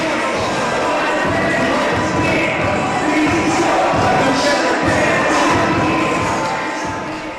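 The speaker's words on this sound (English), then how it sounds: "the crowd's jumpy" Dense crowd noise at a professional boxing fight fills the whole stretch, a steady roar of many voices with scattered cheers and thuds, loud and continuous throughout.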